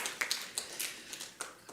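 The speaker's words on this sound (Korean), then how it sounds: "박수로 환영하겠습니다" Sparse, light clapping from a small church congregation welcoming a guest at a Sunday worship service, a few scattered claps at close range rather than full applause.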